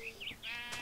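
A sheep in a video game gives a short, close, wavering bleat, heard alone.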